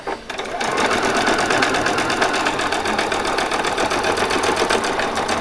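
A sewing machine runs steadily and loud for about five seconds, back stitching across the seam of a Christmas party dress after a brief start-up.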